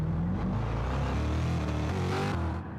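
A racing car engine revs continuously at a circuit, loud and throaty, its pitch stepping up and down through gear changes before easing off at the end.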